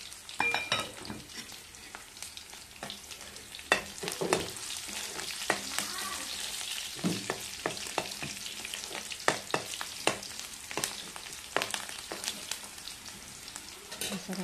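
Shrimp and fish stir-frying in a pan at home, with a continuous close sizzle and frequent scraping and clinking of a utensil against the pan in an irregular rhythm.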